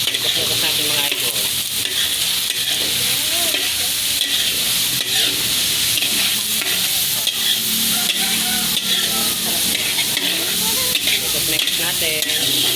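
Carrots and chayote stir-fried in a pan for chop suey, a steady loud sizzle with repeated scraping and stirring strokes running throughout, close and continuous with no talking.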